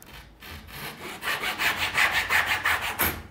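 A handsaw cuts through the end of a steam-bent wooden canoe rib, making a near, rhythmic rasp of about a dozen quick strokes that build in loudness, with no talking.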